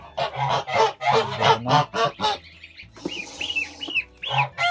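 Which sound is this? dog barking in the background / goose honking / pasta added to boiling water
goose honking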